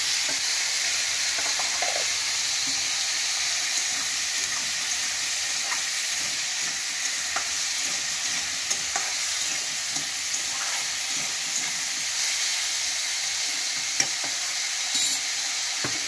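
Carrots, beans and peas tossed into a frying pan for chicken soup, giving a steady broad sizzle with soft stirring scrapes throughout, fairly close and alone with no talking.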